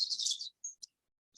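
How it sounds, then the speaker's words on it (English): Birds chirping and tweeting during an outdoor yoga class, a burst of bright high calls followed by a few short separate chirps, faint and clear against silence. "The birds are coming out to play."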